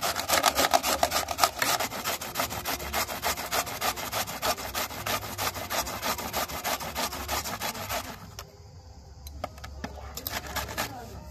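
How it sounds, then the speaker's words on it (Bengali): Ripe ash gourd being grated by hand in a home kitchen: a rapid, rhythmic rasping scrape repeating stroke after stroke for about eight seconds, close and fairly loud, then stopping into quieter background. "এই চাল কুমড়োটা আগে আমি ভালো করে ঝুড়ে নেব"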